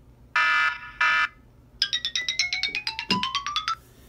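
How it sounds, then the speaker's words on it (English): A thin second-generation iPod Touch speaker plays two loud synthetic tone bursts. A rapid run of bright pulsing chimes follows, with one sliding up in pitch, tinny and close, with no voices. "the speaker, which can now play music instead of just making basic clicks and beeps"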